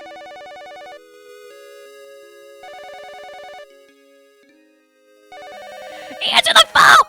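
Electronic telephone ring in the visual novel YU-NO, a repeating synthesized melodic trill in three bursts with brief pauses, followed by a character's voice speaking at the end.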